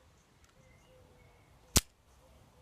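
A compact LEGO Technic survival pistol fires a single round with one sharp, sudden snap that cuts through an otherwise quiet room.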